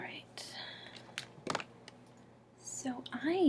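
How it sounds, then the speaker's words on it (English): Soft computer keyboard typing, a few sparse quiet key clicks, heard close alongside a whispering voice in a hushed indoor setting. "I really like the sound of keyboards"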